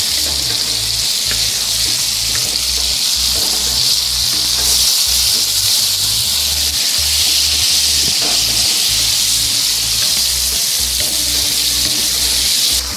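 Vegetables for a ratatouille-style dish stewing with about 200 grams of tomato juice in a pan, giving a steady close bubbling sizzle and hiss that runs continuously and fairly loud throughout, with no talking.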